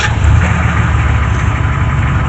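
A 6.5L diesel truck engine runs at a steady idle after starting, a loud, continuous low rumble with a faint knocking texture, heard close and alone.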